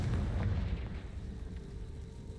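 The Confringo fire-blast spell going off in the Hogwarts Legacy video game: a deep, heavy boom with a rumbling tail that slowly fades over a couple of seconds.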